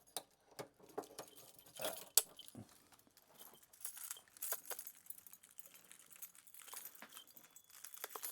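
Keys jangle and clink faintly while being picked up from nearby, a scattered series of small metallic taps and rattles over several seconds with no voices.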